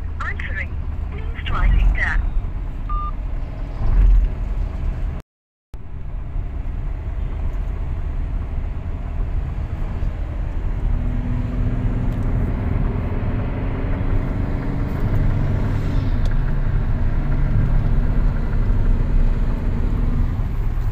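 A Hyundai Verna diesel engine idles after an injector replacement, following a black smoke problem: a steady, loud low rumble that continues for about twenty seconds after a brief dropout, with a faint drone rising in pitch partway through.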